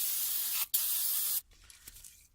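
Aerosol brake cleaner sprayed onto a Honda brake caliper, two loud steady hissing bursts close by, the first about half a second and the second longer after a brief gap, followed by fainter clatter.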